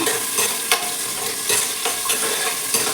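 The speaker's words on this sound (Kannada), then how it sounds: "ಇದು ಬೀನ್ಸು ಮತ್ತು ಕ್ಯಾರೆಟು, ಇದು ಸ್ವಲ್ಪ ಫ್ರೈ ಆಗುತ್ತೆ" Beans and carrots fry with a steady hiss in a pan for pudina palao, and sharp scraping stirs come every half second or so. The sound is close and fairly loud, with no talking.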